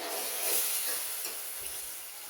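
Potatoes and tomatoes being stirred into fried masala in a pan, giving a dense, even sizzle with soft shifting stirs throughout, close and steady with no voices.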